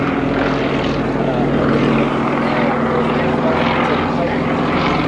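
Propeller aircraft of the Matadors display team flying a mirror formation pass at Shoreham Airshow, a loud continuous engine drone with a steady low hum, while a commentator talks over it.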